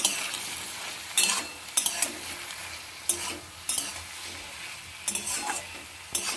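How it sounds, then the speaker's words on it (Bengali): Chilli paste and turmeric fried and stirred in a pan for fish curry, a continuous sizzle broken by repeated sharp scrapes of a spatula against the pan. "এবার ভালো করে কষিয়ে নেব"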